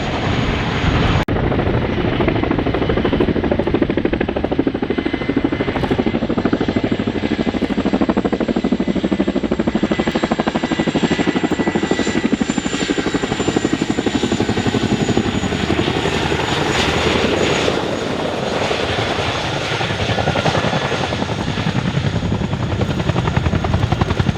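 A Chinook twin-rotor helicopter flies at the Farnborough Airshow 2024, its loud, continuous rotor thrum and turbine roar sustained and close throughout.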